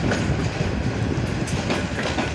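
Ramsagar Express rolls through a railway wash pit, a steady loud rumble of coaches with clickety-clack wheel beats on the track, continuous and close throughout.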